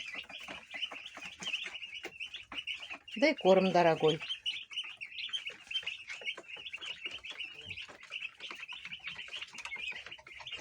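Young chicks peep in a steady, high-pitched stream throughout, close by, while someone talks over them and a brief lower bird call rises around the middle.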